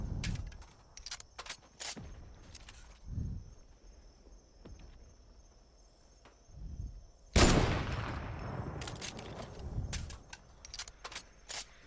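Fortnite gunfire with rockets, sharp shots popping in scattered bursts and one big near blast with a long rumbling tail, spread out and loud over faint background hum.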